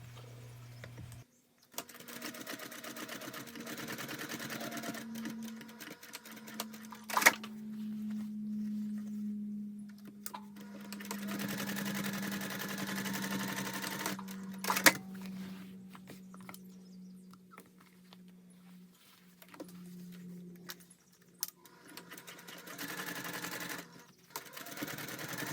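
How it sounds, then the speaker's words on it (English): A sewing machine top stitches the seams of a fabric bag in long whirring runs broken by short pauses, with a few sharp clicks between passes, close and steady, no talking. "Press the seams open and top stitch 1/8 of an inch on both sides of each seam."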